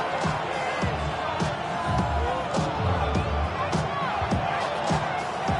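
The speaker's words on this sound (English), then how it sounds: "This crowd doing everything they can before third and goal." A football stadium crowd roars continuously before a third-and-goal NFL play, a dense, far-off wall of cheering with sharp claps and shouts and no clear talk.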